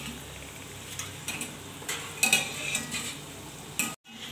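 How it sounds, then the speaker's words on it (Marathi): Gulab jamun made from Chitale instant mix fry in oil over a medium flame, giving a soft, steady sizzle with a few brief scrapes and clinks from a slotted spoon stirring them, then a sudden short cutout near the end. "तर मंद आचेवर आपल्या मीडियम फ्लेमवर असे गुलाबजाम आहेत तळून घ्यायचे आहेत।"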